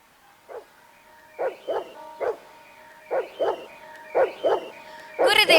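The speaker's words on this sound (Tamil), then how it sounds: "ஏதோ நாய்க்குரைக்கு போல் சத்தம் கேட்கிறதல்லவா?" Dogs barking in the distance in a Tamil drama forest scene, a series of short paired woofs repeating at a steady pace, growing into a louder, denser bark at the end, with no talking.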